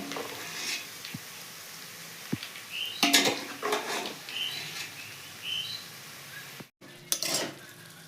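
A metal spatula scrapes and clinks against a frying pan while fried onions for chicken biryani are lifted out, several close, irregular clatters, with faint bird chirps in the background.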